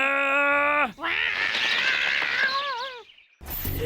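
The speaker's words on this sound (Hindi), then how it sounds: "बिल्ली" A cartoon cat in a Hindi animated story gives loud, drawn-out wailing meows, first a long steady cry, then a wavering yowl that bends up and down in pitch, followed by a brief harsh noise.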